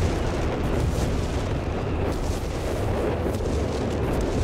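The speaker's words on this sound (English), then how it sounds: "Artillery called in here." Artillery barrage in Company of Heroes 3, a continuous rumbling wash of explosions and blasts rolling on without pause, fairly loud and dense, with no talk over it.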